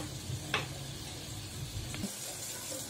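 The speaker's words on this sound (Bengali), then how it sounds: "মশলাটা আমি এইভাবে কষিয়ে নিব।" Spice paste for chapa shutki (dried fish) pulis frying in a pan, a soft steady sizzle with a couple of faint scraping stirs, quiet and close.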